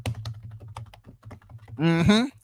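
Rapid keystrokes from typing on a computer keyboard, a steady pattering of clicks followed by a louder burst of sound near the end.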